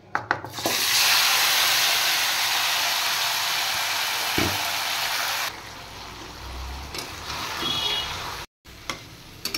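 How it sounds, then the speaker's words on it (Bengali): Marinated mutton dropped into a hot pan after whole garam masala of cloves, cardamom, cinnamon, mace and nutmeg, bursting into a loud, close, hissing sizzle that drops in intensity about halfway through, with clatter and no voices. "এবার আমি মেখে রাখা মটন দিয়ে দিচ্ছি।"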